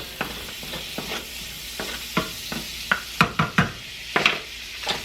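Butter sizzles in a pan while food cooks at medium heat, a soft steady frying hiss broken by a series of clinks and scrapes of stirring against the pan, close and without talk.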